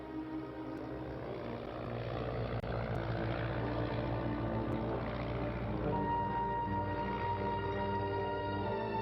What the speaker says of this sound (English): she pilots her light aircraft into the heart of Berlin